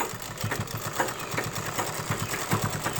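A sewing machine runs fast as it stitches thick petticoat fabric, its needle making a rapid, even, close-up mechanical thumping for the whole stretch. No one speaks.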